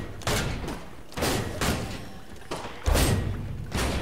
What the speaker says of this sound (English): There's a dude with a pistol going ape shit. He probably got the Halo 1 pistol.